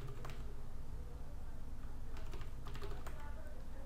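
Quick, light keystrokes tap on a computer keyboard in short bursts, close but quiet over a low background hum.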